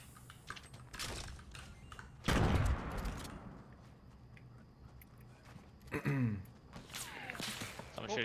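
Gunfire in Fortnite Battle Royale, a few sharp shots and bursts scattered through the stretch with a louder cluster early, amid footsteps and game effects at moderate volume.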